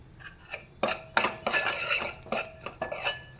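Coarsely crushed cashews and almonds are stirred in ghee in a pan, heard as a series of close metallic clinks and scrapes from a spoon against the pan, with no talking.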